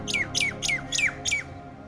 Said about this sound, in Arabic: في عصفور بيقرب على الموبايل أو بيقرب على الكاميرا